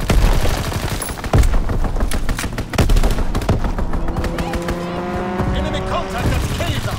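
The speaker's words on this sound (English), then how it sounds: "Strafing run inbound!" Call of Duty: WWII multiplayer domination match with a strafing run: bursts of rapid gunfire and sharp impacts, engine and aircraft roar, game announcer voices over the action.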